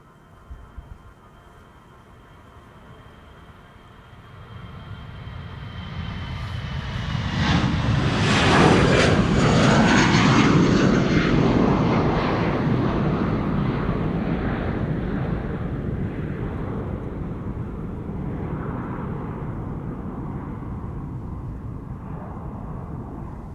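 An EasyJet Airbus A320, nine years old, departs from Amsterdam Schiphol, its jet roar rising from faint to a loud peak as it passes close, then slowly fading into a lingering rumble, with no voices.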